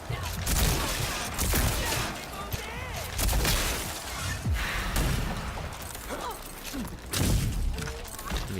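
Shotgun blasts in the Rage 2 video game come as repeated loud booming bursts, several heavy shots spaced across the stretch amid dense clattering combat noise, with a voice talking faintly underneath.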